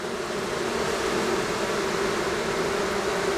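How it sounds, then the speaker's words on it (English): Dense, steady buzzing of many honey bees crowding and fanning at the front of a hive whose queen status is in doubt, a continuous close hum with no voices. "So a lot of bees at the front,"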